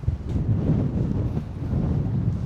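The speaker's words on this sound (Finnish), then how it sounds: "Heti tuulee." Strong wind blows across a microphone at a seaside football stadium, a loud, steady low rumble with gusty buffeting and no voices.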